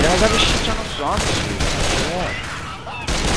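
Gunfire in Left 4 Dead 2 during a zombie fight on The Sacrifice, a continuous loud barrage of overlapping shots with a player talking over it.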